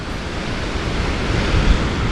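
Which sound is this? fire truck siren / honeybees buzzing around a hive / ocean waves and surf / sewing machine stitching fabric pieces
ocean waves and surf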